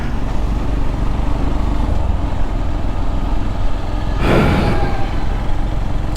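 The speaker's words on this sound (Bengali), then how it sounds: "জারিফ বাইক রাইডিং খুব এনজয় করে।" A motorcycle carries a small family along a riverside in the afternoon, its steady engine and wind rumble running throughout, with a louder whooshing swell near the end as something passes close by.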